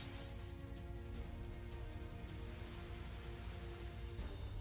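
Steady rain from the Rain Dance move in the video game Pokémon Shining Pearl patters and hisses continuously, a dense even wash of drops that holds at a constant level throughout with no talking.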